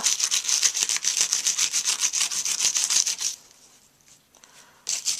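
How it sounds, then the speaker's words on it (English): A die brush and foam scrub small loose pieces out of a wood carving in fast, rhythmic rubbing strokes for about three seconds, then a pause of near quiet before the scrubbing starts again. "die brush and foam just to get these little pieces out. Just give that a nice rub."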